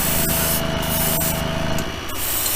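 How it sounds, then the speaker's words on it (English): Spray paint hisses from an aerosol can onto a diecast car body being customized as a 1955 Bel Air gasser, in a few steady close bursts with short gaps between them. "just kind of spray it"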